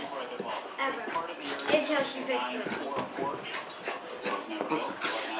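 A dog whimpers and yips alongside a puppy, soft whines and small cries recurring close by while people talk over them throughout.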